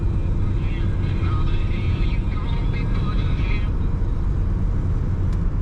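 A 1951 Ford Custom two-door sedan's engine hums steadily from inside the cabin while driving, a smooth constant low drone with faint road noise.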